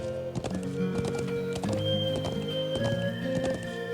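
Horse hooves clip-clop steadily in the Trails of Cold Steel video game, mixed with whinnies and sustained game music, loud and continuous throughout.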